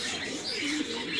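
Double-crested Turkish pigeon, a bird lying on its eggs, making soft close cooing calls and brief chirps in a short continuous stretch, with no talk.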